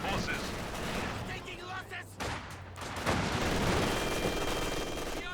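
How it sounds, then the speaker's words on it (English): Dense bursts of MG42 machine gun fire in the real-time strategy game Company of Heroes 2, suppressing conscript infantry, mixed with other battlefield gunfire and explosions in a continuous loud din. "MG42 does suppress down the conscripts"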